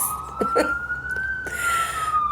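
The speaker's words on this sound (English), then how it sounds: "Seriously, that was an ambulance." An ambulance siren passes outside, a single rising and falling wail heard at moderate distance for the whole stretch.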